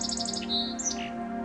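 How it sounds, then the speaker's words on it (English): A song sparrow sings alone, opening with a few evenly spaced bright notes, then quicker chirps and a short trill, fairly faint over a steady low hum. "They usually begin their song slowly, with spacing between notes, and then continue with faster notes and trills."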